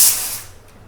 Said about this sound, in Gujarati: સીટી વાગી ગઈ છે.